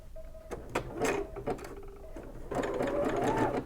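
A sewing machine zigzag-stitches lace onto fabric, starting with short stop-start bursts and clicks, then running more steadily and a little louder near the end, close by.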